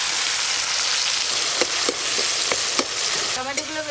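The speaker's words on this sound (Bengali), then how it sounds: "কালো জিরে ফোড়নে দেব। টমেটো কুচি, একটু লবণ দিয়ে দেবো" Chopped tomatoes with salt hit hot oil tempered with nigella seeds, a loud continuous sizzle with several sharp spoon scrapes and clinks near the end, close by.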